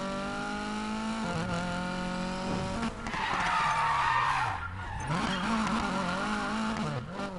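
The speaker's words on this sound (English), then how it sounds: "For some reason it's put me in my off-road car." Off-road car in the racing game Need for Speed Payback, engine droning and shifting pitch while tires skid and squeal loudly through most of the stretch, no talk.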